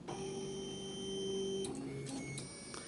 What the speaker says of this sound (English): I've gone ahead and sliced the object, and I'm going to begin printing.